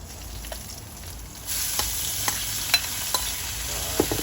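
Ground pork sizzling steadily in a hot pan for a spaghetti sauce, a continuous close frying hiss broken by light scrapes and clicks of a spatula stirring.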